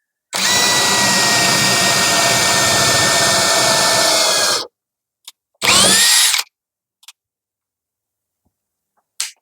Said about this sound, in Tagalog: Tapos drill bit na pang kahoy.